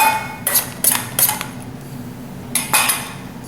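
Olive oil and green onion mixture scraped out of a container with a utensil: several short clinking, scraping strokes in quick bursts, close and fairly loud, with a pause in the middle and no talk.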